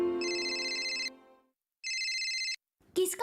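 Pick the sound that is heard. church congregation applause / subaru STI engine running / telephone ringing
telephone ringing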